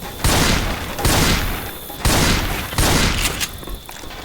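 Four loud, booming shotgun blasts from a zombie shooter video game, spaced roughly one second apart, each decaying into a rumbling tail with scattered crackle between shots.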